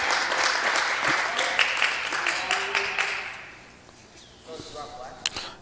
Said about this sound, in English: gets a nice hand from the crowd here in Ripley.